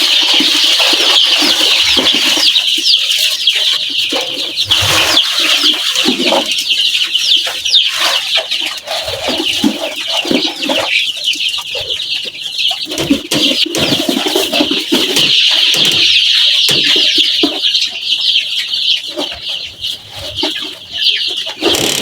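A flock of chickens clucks continuously and noisily up close, overlapping calls filling the air with occasional louder squawks.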